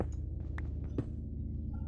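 Eerie cave ambience from the Minecraft video game: a steady low throbbing hum with faint scattered clicks and one brief sharper knock near the middle, moderately quiet throughout with no voices.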